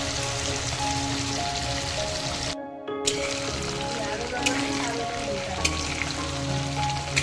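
Rohu fish fat sizzles and crackles steadily in hot oil in a pan, a loud continuous frying hiss with a brief cut partway through and occasional pops.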